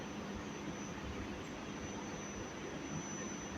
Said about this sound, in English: I'm using the DC, the air blower, hot air blower for drying it perfectly